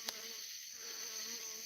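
A bee flies around a light at night, making a faint, steady buzzing drone with a brief tick at the start, and no voices.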